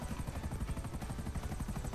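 An aircraft flies in the GTA 5 video game, a steady, loud engine roar with a rapid pulsing beat that holds evenly throughout with no talk.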